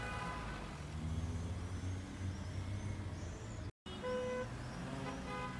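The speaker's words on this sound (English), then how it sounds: "Some cars beeping as well, just to really put you in that space of being in a busy city." Busy city street traffic with cars passing steadily and several car horns beeping, layered over a background crowd murmur, with a brief dropout near the end.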